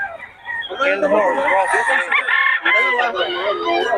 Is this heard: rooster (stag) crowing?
yes